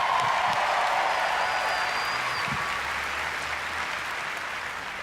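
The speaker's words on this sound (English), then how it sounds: "Another round of applause" Steady, broad applause from a large audience at Bethesda's E3 2019 presentation, sustained throughout and slowly fading a little in loudness.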